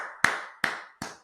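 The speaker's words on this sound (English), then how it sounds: "And I just got to clap." Three sharp hand claps ring out alone, close and evenly spaced, each with a short bright decay into silence.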